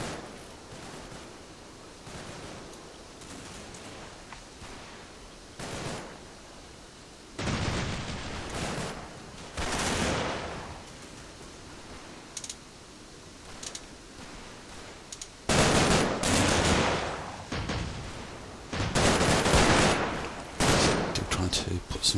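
Suppressive gunfire in the WWII strategy game Combat Mission Market Garden: bursts of rifle and machine-gun fire crackle and roll in loud clustered volleys, some distant, separated by quieter battle ambience.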